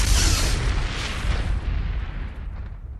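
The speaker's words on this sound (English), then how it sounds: "Suddenly, a sharp flash and an explosion of magical light erupt." A deep, booming explosion bursts loudly and rolls into a long, rumbling decay, like a blast of magical light erupting, alone with no voices.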